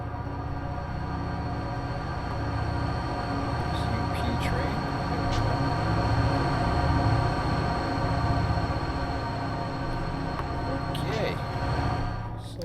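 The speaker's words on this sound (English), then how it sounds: "Oh, there's an Amtrak going." An Amtrak train rolls along in the Run8 V2 train simulator, a steady low rumble and mechanical drone continuing throughout with a few faint high clicks, and a voice speaking over it.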